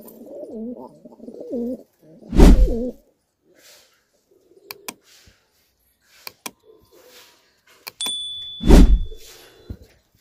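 Pet pigeons at home coo in soft, repeated low warbles, with two louder bursts close by and scattered small clicks and knocks between them.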